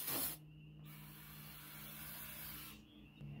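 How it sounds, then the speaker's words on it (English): Brake cleaner sprays from an aerosol can onto the cylinders of an LS engine block, a soft continuous hiss of several seconds, quiet and close, with a brief louder burst at the start. "Brake clean is what I use. This is from AutoZone. Don't matter where you get it, and just spray everything down."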